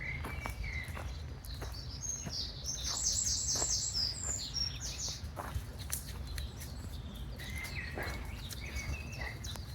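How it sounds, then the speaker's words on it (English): Birds chirp and sing steadily in an outdoor setting, several calls overlapping against a low rumble of background noise, with a few soft thumps. "Listen to all these birds' song."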